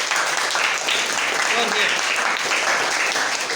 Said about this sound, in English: The students are clapping.